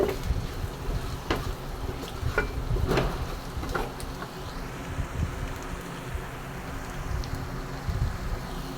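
Spicy chilli gut (kudal chukka) being sautéed in a pan, a close scraping and stirring sizzle with irregular clacks of the utensil in the first half, then a softer steady fry.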